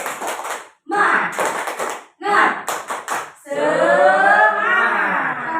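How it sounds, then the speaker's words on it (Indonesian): A group does a rhythmic 'tepuk semangat' clapping cheer at a school teachers' workshop, with bursts of patterned claps and shouts, then a stretch of mixed voices and chatter. "Ya, tepuk semangat."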